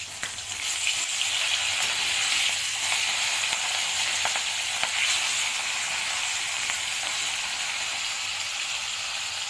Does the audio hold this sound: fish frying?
yes